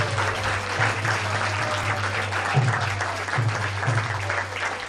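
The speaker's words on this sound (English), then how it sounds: "Can we please give them another round of applause," Audience applause for a children's drama performance on the Srimad Bhagavad Gita, a steady, dense wash of clapping that holds for the full stretch, with a low hum running underneath.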